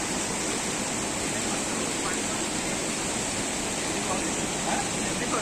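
Waterfall at the Nrusinghanath temple in Paikmal, a constant, loud, broad roar of falling water that fills the whole clip without any break.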